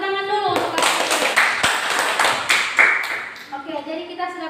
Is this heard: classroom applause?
yes